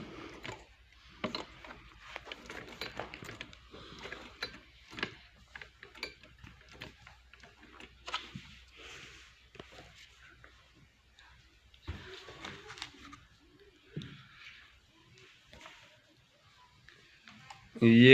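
A sewing machine runs after its nut has been tightened, giving a string of quick mechanical clicks and whirring bursts that stop and start, with short pauses, sitting close and fairly quiet.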